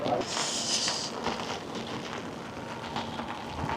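Rain falls outside at an ocean-front spot in Whittier, Alaska, making a constant soft hiss of drops on surfaces, with faint background sounds mixed in.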